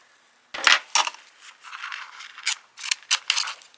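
Scissors cutting a corner off sticky-backed craft vinyl for a graduation cap cover: a sudden snip, then a string of crisp clicking cuts and rustles, close and alone.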